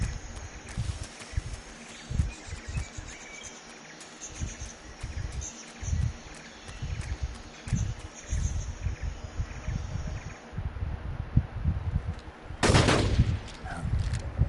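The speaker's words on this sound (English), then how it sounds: "Gunshots." Gunfire in the video game Metal Gear Solid 3 Snake Eater, a string of muffled shots and bursts over game ambience, ending in one louder, sharper shot near the end.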